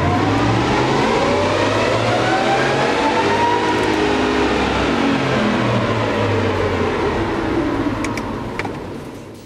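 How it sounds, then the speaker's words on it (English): A 2013 Ford Raptor fitted with a VMP TVS supercharger and 72 mm pulley roars through a full dyno pull, its engine note and supercharger whine climbing steadily in pitch at high, constant loudness before easing off at the end. "Now let's pull it on the dyno."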